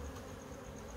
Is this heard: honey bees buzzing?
yes